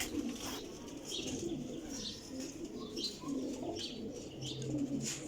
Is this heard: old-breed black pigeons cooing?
yes